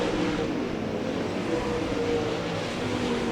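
Race cars roar down the front stretch of a short oval during a heat race, a steady dense engine drone with no break across the whole stretch.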